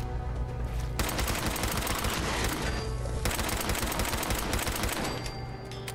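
Heavy-recoil gun in Fallout 4 firing in long sustained automatic bursts, loud and dense, with a brief break near one second and another near three seconds, then tapering slightly at the end.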